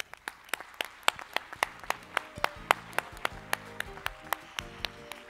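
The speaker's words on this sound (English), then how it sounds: "Another round of applause for the great, fruitful discussion" Audience applause at a roundtable panel discussion, heard as a sparse, evenly spaced string of sharp claps, fairly faint and distant, over a soft background tone.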